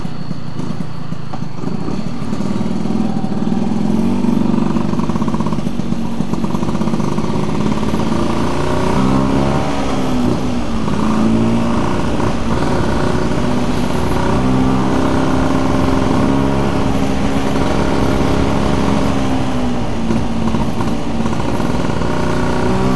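A Vespa scooter engine, a Vespa Poho, runs loud and near on a touring ride, its tone rising and falling through repeated revs over a steady droning base, with no talking.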